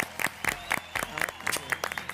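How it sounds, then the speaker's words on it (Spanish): A short burst of studio audience applause with distinct, quick claps and faint voices mixed in. "Aplausos para la señora"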